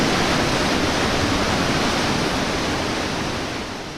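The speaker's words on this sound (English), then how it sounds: "The water bellowed loudly through the green curtain of rich Indonesian vegetation" Three waterfalls roar in a sinkhole within dense Indonesian rainforest in North Sulawesi, a steady, loud, broadband rush of falling water that holds constant and eases slightly toward the end.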